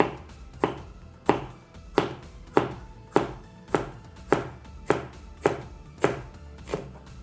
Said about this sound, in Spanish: yo tengo estos chiles güeros. Entonces simplemente los voy a cortar en rodajas